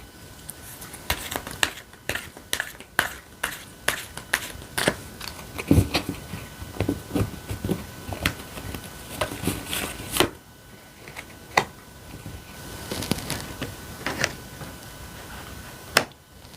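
Tarot cards are handled and drawn from the deck, giving a series of irregular soft snaps, flicks and slides, close and fairly quiet, with brief pauses between bursts.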